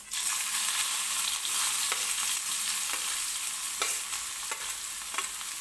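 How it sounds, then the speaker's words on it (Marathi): Finely chopped onion sizzles in hot oil with crackling mustard seeds and cumin for a savoury dahi tadka, a steady dense frying hiss with occasional sharper pops and stirring, close and fairly loud, with no voices. "जिरं व्यवस्थित फुलल्यानंतर मी याच्यामध्ये टाकणार आहे बारीक चिरलेला कांदा."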